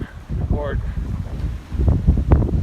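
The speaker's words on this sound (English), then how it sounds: "Wind's still blowing pretty good." Wind gusts outdoors on a cold evening, roaring and buffeting the microphone in uneven surges, with brief bits of voice mixed in.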